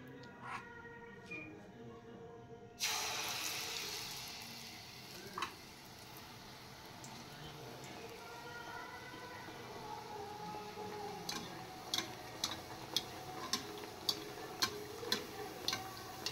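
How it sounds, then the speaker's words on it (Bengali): Malpua batter goes into hot oil and fries with a faint, steady sizzle, broken by a sudden burst of louder crackling and then by soft popping ticks that grow more frequent. "তেল গরম হয়ে গেছে, এবার আমি দিয়ে দেব।"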